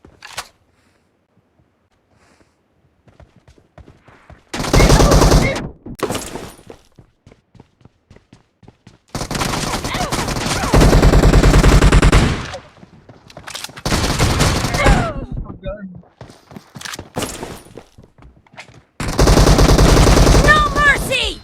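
Gunfire from shotguns and sniper rifles in a PUBG Mobile team deathmatch: long, loud, dense volleys of shots in separate bursts spread across the stretch, with quiet gaps between them and faint game voices at times.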